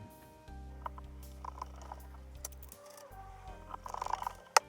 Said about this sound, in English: we can go ahead and switch and drive our second screw to lock that one in